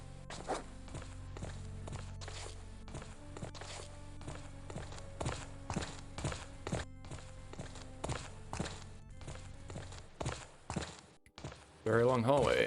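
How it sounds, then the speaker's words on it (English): Regular, evenly paced footsteps stride down a long hallway in the 1995 video game Stonekeep, a steady repeating tread that carries on for most of the stretch before a brief break and a burst of other game sound. "you can see or hear the footstep sounds kind of reset at one point"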